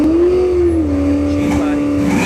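A naturally aspirated Boss 302 Fox-body Mustang drag car with no nitrous at a drag strip test-and-tune session, its loud sustained engine note holding high and then dipping slightly, with a voice talking over it.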